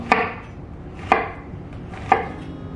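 Kitchen knife cutting down through an onion on a board in three sharp, evenly spaced strokes about a second apart, each a crisp close knock with a short tail, in a quiet room.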